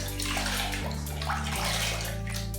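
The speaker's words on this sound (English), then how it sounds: "In this bucket here is just clean water that I'm using to get as much adhesive" Water sloshes and runs continuously in a bucket of clean water used to rinse adhesive while tiling a bathroom floor, a close, steady splashing with a low machine hum beneath.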